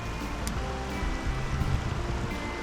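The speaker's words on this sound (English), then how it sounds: "We have reached a point where the trail has become a creek." Creek water rushing steadily over a mountain trail where the path has turned into a stream, a constant close, broadband wash of flowing water with no talking.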